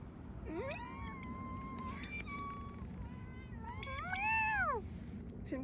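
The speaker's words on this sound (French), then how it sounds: "J'aime trop ces miaou" A cat meows several times up close, with long drawn-out cries and a louder wailing meow near the end, with no talking.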